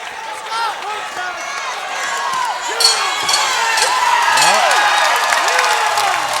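A boxing arena crowd roars and cheers after the tenth and final round of a Nawaz vs. Hudson bout, a dense, sustained wash of voices and whistles with a brief louder surge midway, and a commentator talking over it.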